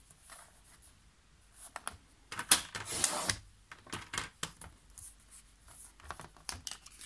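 Paper cut to size for a Sweet Paris scrapbook album, with quiet scattered clicks and taps and one brief louder rasping cut in the middle, close and otherwise sparse.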